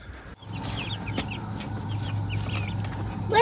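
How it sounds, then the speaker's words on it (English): Laying hens in a coop cluck in short, repeated calls over a steady low hum, with one louder rising call near the end; the birds sound fairly close. "But these hens are doing good."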